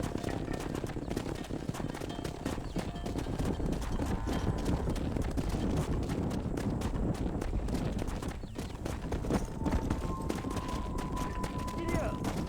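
A horse gallops in Red Dead Redemption, with rapid hoofbeats under a dense, loud bed of game sound, while a voice calls out over it.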